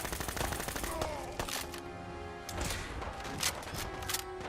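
Rapid bursts of laser rifle fire from the Fallout 4 video game crackle densely throughout, loud and busy, with layered game effects and overlapping shots.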